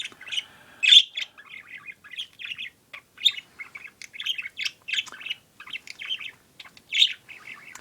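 Pet parakeets chirp and warble in a steady stream of quick, bright calls close by, with a few louder squawky notes standing out and no talking over them.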